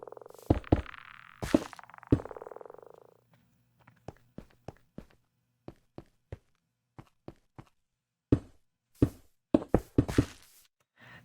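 A Minecraft lodestone block is placed in the video game, giving a series of sharp, hollow thuds and clicks, some close and loud, others quieter, scattered irregularly with short pauses, with no talking.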